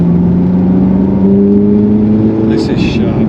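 A Ferrari 430 Spider engine drones loudly from inside the car, its pitch rising and shifting as it revs through a downchange, with a brief higher whir near the end.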